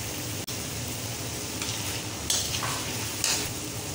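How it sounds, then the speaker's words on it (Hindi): Garlic ginger paste frying in a pan for Singaporean-style rice, a steady loud sizzle with occasional clinks and scrapes of a utensil stirring. "और लहसुन अदरक का पेस्ट। इसको हम थोड़ा सा भूनेंगे।"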